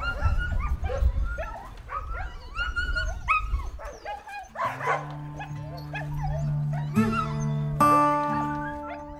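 Several sled dogs from a ten-dog mushing team bark, yip and whimper excitedly, near and overlapping, with a steady rising chorus of howls and whines building in the second half.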